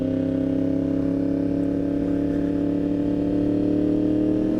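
A 2016 Yamaha R1 sport bike sits at idle through an aftermarket exhaust, giving a loud, steady, close-up drone with no clear pops standing out.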